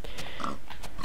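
Pig grunts from Minecraft on Xbox 360, a few short snorting oinks standing out above a steady background of game noise.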